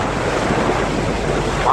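Strong wind buffets the microphone over the steady roar of rough sea waves off Istanbul in cold, rainy weather, a loud, continuous wash of noise with no pauses.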